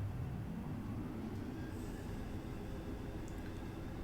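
In the video game Genesis Noir, a train sits at a station with a steady low rumble and rolling wagon noise, plus faint high squeals and clinks, continuous and fairly close with no talking.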